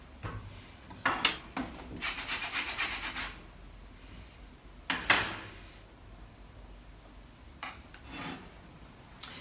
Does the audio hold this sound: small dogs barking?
no